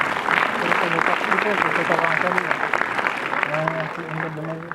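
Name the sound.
audience applause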